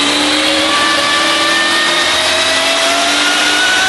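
Classic American muscle car revving hard as it launches, a loud, continuous engine roar with rising harmonic pitch sweeping upward throughout, no voices.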